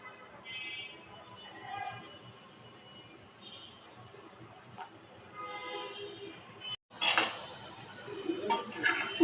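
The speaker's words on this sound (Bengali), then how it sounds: "এখন আমি সবগুলো তেলে ভেজে নেব।" Chopped pieces for a sweet monaka snack drop into hot oil after faint clinking of utensils, setting off a loud, crackling sizzle that surges and continues to the end.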